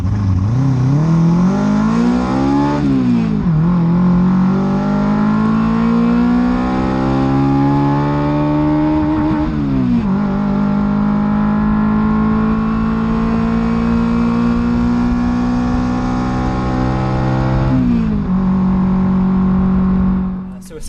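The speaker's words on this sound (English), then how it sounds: "So it's a BMW K1000 motorbike engine in this one." Hillman Imp fitted with a BMW K1000 motorbike engine revving hard, the engine note climbing and holding high in repeated sustained pulls with brief drops between, loud and close.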